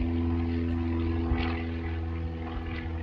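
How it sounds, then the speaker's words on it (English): A propeller airplane passes overhead outdoors in a garden, a steady droning engine hum with a broad rumble that swells slightly as it crosses, heard alone without talk. "there's an airplane"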